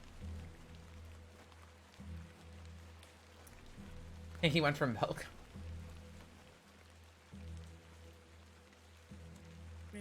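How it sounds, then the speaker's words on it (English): Steady rain falls in the point-and-click adventure game The Excavation of Hob's Barrow, a soft continuous patter with a low hum beneath, while a voice speaks briefly partway through. "Let's get out of the rain."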